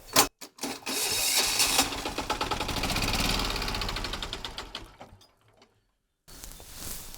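Walk-behind tractor engine being started, which had failed to start, loud sputtering engine cranking with rapid knocking pulses for a few seconds, then dying into silence before noise resumes.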